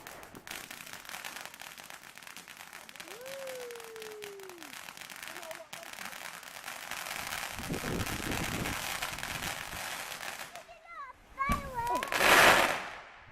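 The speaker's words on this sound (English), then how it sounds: "Illegal fireworks." Illegal fireworks on Bonfire Night give whistling rockets and sharp crackling bursts near the end, loud and close. Before that there is a long stretch of steady outdoor background noise, and children's voices can be heard.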